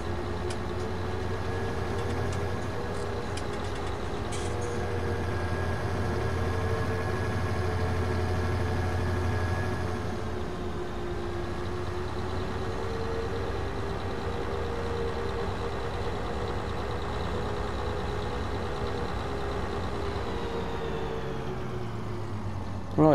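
A modded tractor engine in Farming Simulator 19 idles with a steady, slightly rattly drone that runs unbroken, shifting tone partway through before settling, with no one talking.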